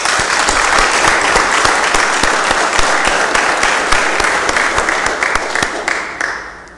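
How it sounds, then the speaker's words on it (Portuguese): A large gathering applauds in salute to the national flag at the opening of a formal municipal council session, with dense sustained clapping that fades out near the end. "solicito a todos que saudemos o pavilhão nacional com uma salva de palmas"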